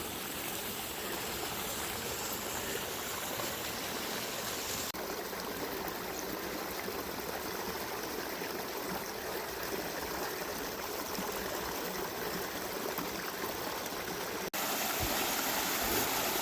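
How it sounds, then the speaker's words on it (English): Small mountain streams rushing and trickling downhill near Lough Tay, County Wicklow, in winter, a steady, fairly quiet watery flow with no voices. "we've got quite a lot of little streams and rivers flowing down the hill"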